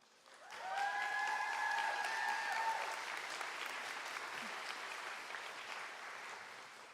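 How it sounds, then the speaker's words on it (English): Audience applause for the families at a physician assistant white coat ceremony swells quickly and holds steady for several seconds before slowly thinning, with a couple of high whoops or whistles early on. "we want to give them our applause"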